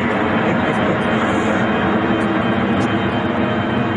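A steady, broad engine roar of an airplane passing overhead above a farm, loud and continuous throughout with no breaks.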